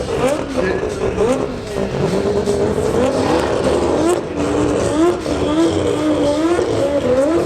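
A 1958 Chevrolet Impala leaving a large car show, its engine revving in repeated rising and falling pulls, close and loud, with other traffic noise and people talking over it.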